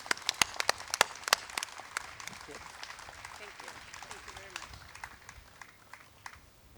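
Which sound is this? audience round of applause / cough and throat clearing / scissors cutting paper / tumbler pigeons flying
audience round of applause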